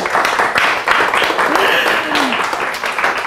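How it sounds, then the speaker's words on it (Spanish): An audience applauds at the close of a mathematics workshop, a brief burst of clapping as a voice speaks over it. "Y un aplauso para ella"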